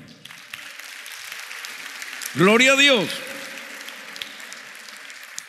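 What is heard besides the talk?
congregation applause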